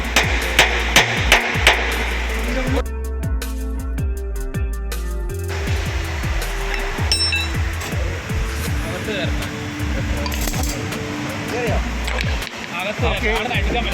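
Metal hammer blows on an aircraft pushback tow bar under repair, a quick run of sharp strikes at the start and then scattered knocks, heard under people talking, with machinery hum in the background.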